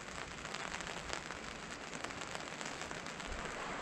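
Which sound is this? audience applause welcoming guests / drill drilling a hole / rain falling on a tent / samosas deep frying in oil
rain falling on a tent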